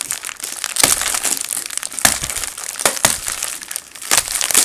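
Plastic toy packaging for Marvel Grab Zags collectible toys crinkles and crackles steadily as it is torn open, with several sharper crunching bursts standing out among the continuous close, loud rustling.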